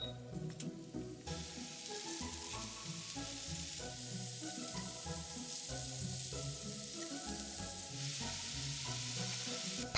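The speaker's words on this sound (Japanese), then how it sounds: "揚げ焼きにします。" Flour-coated potatoes shallow-fry in rice oil in a frying pan, giving a dense, steady sizzle with crackling pops that carries on without a break, with no voices.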